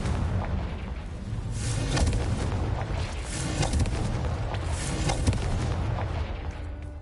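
Confringo fire spell blasts in Hogwarts Legacy make a continuous stretch of rumbling booms and bursts, loud and dense, with no voices over them.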